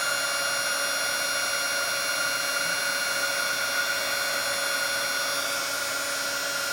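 A hot air tool blows steadily on a small part, a constant close whirring hiss with a high whine running unbroken throughout, no talking.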